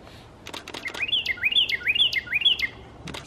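Social birds calling on a walk at Circle B Bar Reserve in Lakeland, Florida: four or five quick, bright rising chirps in a rhythmic run, close and clear over quiet background, with a few soft clicks around them.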